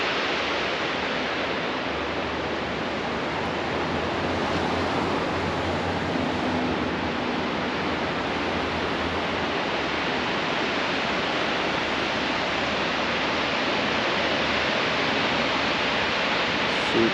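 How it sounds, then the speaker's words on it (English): A waterfall beside Going-to-the-Sun Road in a national park roars steadily, a dense, constant rush of water that holds unchanged for the whole stretch with no one speaking. "super nice waterfall right there."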